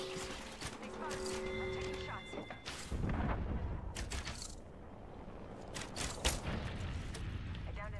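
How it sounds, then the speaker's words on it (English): Gunfire in an Apex Legends Arena match: repeated loud shots and impacts in bursts throughout, thickest from about three seconds on, layered with game effects and other noise. "I am taking fire."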